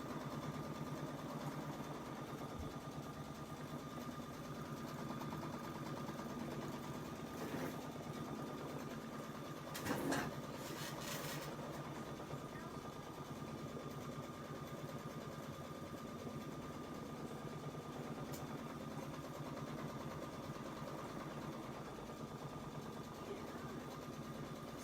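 Solaris 2 embroidery machine stitching a border with a magnetic frame, a steady, continuous mechanical hum and whir running throughout at moderate level, with a brief brighter clatter partway through and no speech.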